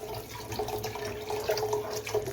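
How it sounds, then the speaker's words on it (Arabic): Water pours steadily and close into a pot of vegetables and rice for a Moroccan soup, a continuous splashing gurgle with no talk. "دابا غادي نبلل بالقياس ديال الماء اللي غيطيب ليا فيها الخضيره مع الرز"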